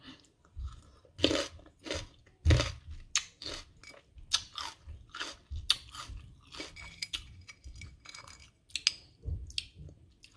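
Close, loud crunchy chewing of sour fruit such as tart oranges, irregular bites and crisp crunches over about ten seconds, with no talking.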